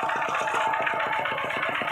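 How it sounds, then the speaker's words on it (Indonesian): A farm tractor works a field being cleared before planting season, its engine chugging in a fast, even rhythm of pulses at a steady, fairly loud level with no talk. "ini alat yang sekarang sedang dipakai yang enak ya, traktor ini untuk mempercepat pengelolaan lahan."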